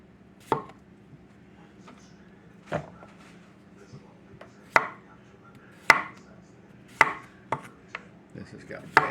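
A knife cutting through potatoes on a cutting board, with sharp, distinct chops at irregular intervals about a second apart, close and clear against a quiet background.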